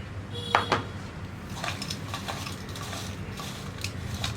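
Grated jaggery being stirred into soaked flattened rice in a bowl, heard as a sharp spoon clink near the start followed by soft, continuous scraping and mixing with faint clicks.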